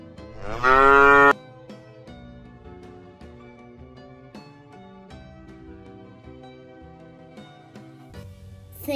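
A cow moos once, loud and close, for roughly half a second near the start, then gives way to a busy musical backdrop with steady melodic notes and no talk.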